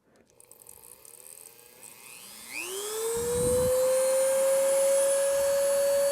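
A grinding wheel sharpening a Toro lawnmower blade spins up from quiet to a loud, steady high whine over a couple of seconds, with brief rough contact noise as the blade meets the stone, close up and alone.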